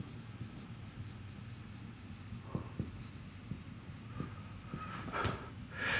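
A pen scratches steadily as an auxiliary equation is written out by hand, soft close strokes in a continuous rhythm over a low room hum, with a few louder taps near the end.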